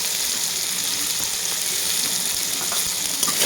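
Green jujube chutney with turmeric and salt being stirred in a pan, a steady close sizzle with soft scraping throughout, no voices.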